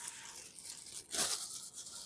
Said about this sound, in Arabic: بنجيب كيس بلاستيك